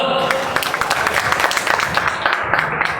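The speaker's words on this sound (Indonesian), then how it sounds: "Tepuk tangan untuk pasangan calon nomor urut 2" Student audience at a campus election debate applauding candidate pair number 2, a sustained patter of moderate clapping in a hall, fairly even throughout with some background voices.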